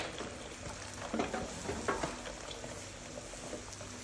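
Liver, carrots and green pepper being stirred together in oil for fried rice, a soft sizzle with scattered scraping and stirring knocks, fairly quiet and without talk.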